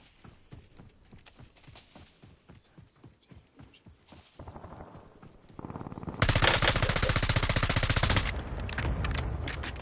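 Rapid gunfire in a video game: a quick, steady string of shots at first, then a louder, denser burst of firing that continues to the end.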